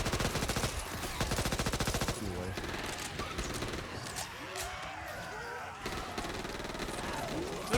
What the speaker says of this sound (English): Stop shooting me, Chad.